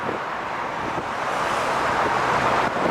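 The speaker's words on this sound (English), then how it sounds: "We're going to record some traffic sounds for the traffic part in the clip" Traffic at a town flyover makes a steady, loud road roar, blended with gusty wind rumble that holds throughout without any clear pauses or voices.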